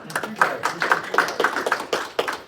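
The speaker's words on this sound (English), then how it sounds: "Can we get a nice round of applause for" A small audience at a business meeting claps for the event organizers, a brief patter of distinct hand claps at close range with uneven rhythm.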